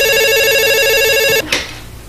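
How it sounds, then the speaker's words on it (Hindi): A telephone ringing on a landline, with a steady electronic ring tone that stops abruptly partway through, followed by a short clatter of the receiver being picked up, heard near and alone. "तेरे को लैंडलाइन पे फोन करा।"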